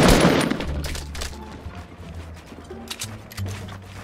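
Fortnite gunfire opens with a loud close burst of shots, then continues in quieter scattered reports with low game rumble.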